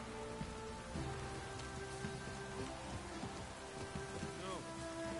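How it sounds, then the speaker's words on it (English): Rain falling in the video game The Witcher 3, a steady hiss of drops on surfaces with faint rumbles of thunder, under a layer of ambient game music. "Looks like rain."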